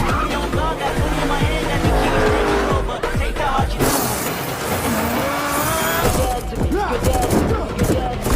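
Cars race through a movie car chase, engines roaring and tires squealing loudly amid bursts of gunfire and crashing impacts, with a dense, continuous action soundtrack throughout.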